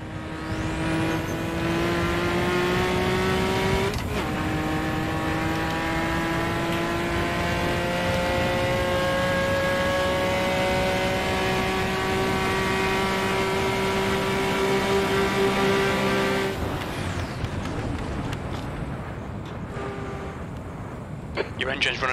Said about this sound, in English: Your engine's running a bit rough